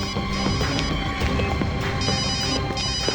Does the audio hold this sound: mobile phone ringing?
yes